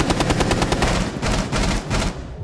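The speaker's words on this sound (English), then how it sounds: "Shots." Gunfire in the tactical shooter Rainbow Six Siege: loud, rapid automatic bursts with short gaps between volleys, close and dominant throughout.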